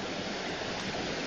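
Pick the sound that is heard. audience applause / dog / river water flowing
river water flowing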